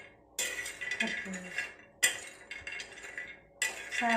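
Soya chunks roasting and being stirred in a pan, with a spoon clinking and scraping against the metal in short bursts and brief pauses between strokes.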